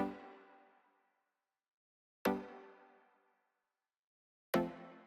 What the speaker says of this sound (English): we have this dark space stabbing synth